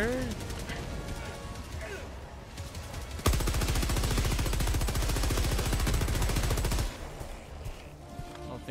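Stalwart machine gun in Helldivers 2 firing one long, loud, rapid sustained burst, preceded and followed by scattered quieter shots and game noise.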